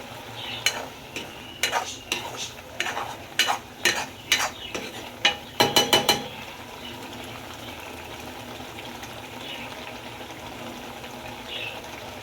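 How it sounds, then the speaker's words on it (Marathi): Masala with two tomatoes' worth of puree fries in a pan while a spoon scrapes and clacks in a quick irregular run of strokes, then the stirring stops and a low steady sizzle carries on alone. "तर आता आपण हे भाजूया"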